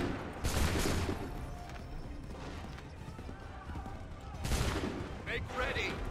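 Musket volleys and gunfire in an Assassin's Creed III battle, loud crackling bursts at the start and again near the end over a steady din of combat noise, with voices mixed in.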